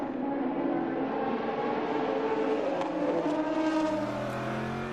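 Endurance race cars, Toyota and Porsche prototypes, at Silverstone during the 2017 FIA WEC season: a continuous loud engine roar with pitch rising and falling as the cars accelerate and pass, no talking.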